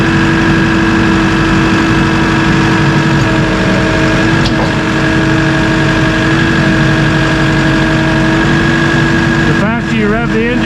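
A Massey Ferguson 2850E compact utility tractor's engine runs steadily at a raised, even speed, loud and close, with a constant droning hum and a slight shift in tone near the end.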